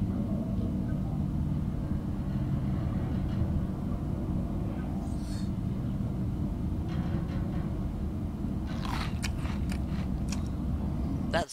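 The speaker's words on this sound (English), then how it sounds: "I'm also a little hungry, so I'm going to eat this." Eating food in the Subnautica video game: a short burst of crunchy, munching bites near the end, over a steady low rumble of underwater game ambience, with no talking.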